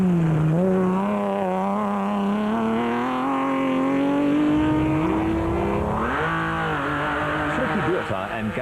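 A BMW M3-powered Land Rover off-road race vehicle in a 2003 Sugarbelt 400 revs hard and pulls away, engine pitch climbing through a long gear then shifting and rising again, loud and close, with a commentator talking over it.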